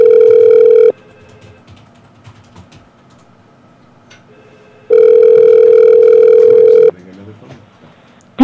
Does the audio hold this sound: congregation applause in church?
no